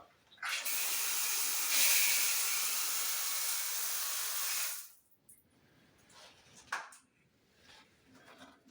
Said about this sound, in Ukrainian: Запустив я воду, прогнав її через кран.